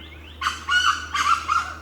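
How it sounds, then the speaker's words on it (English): An Asian fairy bluebird calls from a forest near a waterfall, giving a few clear, liquid whistled notes in quick succession, fairly close and loud against a quiet background. "I then saw this colorful bird, which I could not identify at the time, and it seems to be the Asian fairy bluebird."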